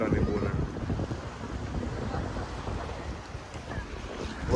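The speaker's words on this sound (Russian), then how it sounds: "ветерок приятный, прохладный дует" Steady gusting wind rushes across the microphone on a Black Sea beach in Sochi in September, a continuous low roar with soft surf beneath, no voices.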